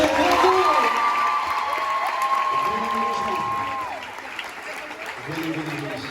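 An audience applauds and cheers for a high school being announced at a student event. Sustained clapping runs under drawn-out shouted cheers and whoops, loudest at the start and easing slightly toward the end.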